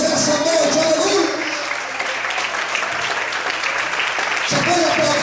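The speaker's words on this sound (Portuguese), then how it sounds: "Quem acredita nessa palavra, glorifica o Senhor e aplauda a Deus nessa noite." A church congregation applauds during an evening service, a steady dense wash of clapping that fills the room, with a voice and some crowd noise running underneath throughout.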